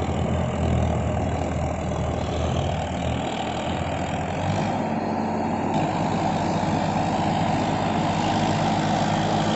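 Farmtrac 60 Supermaxx 55 hp tractor, a 2021 model, running steadily with an 11-tine cultivator, its engine throttled back to a lower rpm; a continuous, fairly loud diesel drone with no talking.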